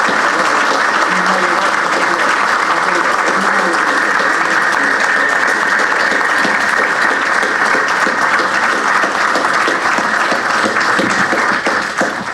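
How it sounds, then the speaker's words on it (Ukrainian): Dense, loud applause from an audience at a university ceremony for students serving at the front, a continuous wash of many hands clapping that stays steady throughout and fades slightly at the very end. "Вам всі аплодують."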